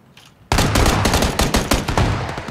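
Rapid automatic gunfire in the battle royale game PUBG, a dense, loud burst of close shots erupting suddenly and rattling on continuously with no voices over it.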